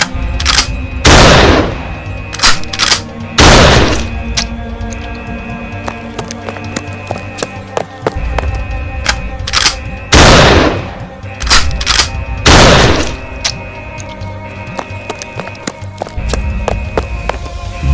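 In a video game, several loud, booming shotgun blasts fire at irregular intervals. They sit over a busy background of game music and effects.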